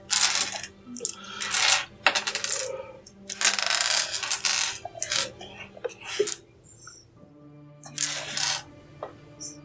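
Clattering bursts of dice being pulled out and rattled for a tabletop role-playing game, several sharp plastic clicks and tumbling rattles in clusters with short pauses between, loud and close.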